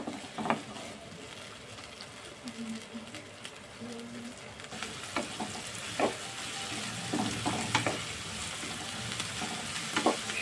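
Vegetables for vermicelli upma are lightly fried in a pan with a soft, steady sizzle, broken by occasional clicks and scrapes from stirring.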